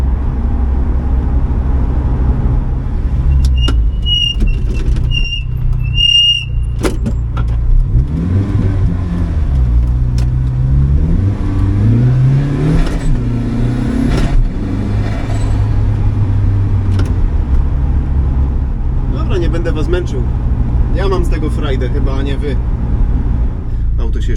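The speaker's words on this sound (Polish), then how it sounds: "nie jest pełny gaz i to nie są maksymalne obroty. I to nie jest pełne doładowanie." An Opel Speedster's turbocharged engine revs repeatedly below full throttle and maximum rpm, rising and falling loudly and close by, with a steady rumbling idle between the climbs.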